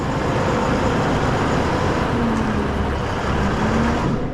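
A Volvo FH16 650 truck with a 16.2-litre engine drives along, giving a loud, steady rumbling drone that holds without a break the whole time, with no talking.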